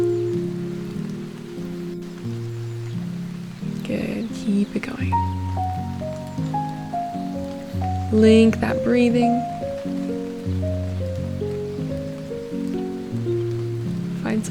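Rain falls steadily beneath gentle melodic music during a spring-themed yoga flow. An instructor speaks calmly over it.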